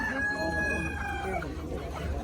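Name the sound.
chickens clucking and crowing at a poultry market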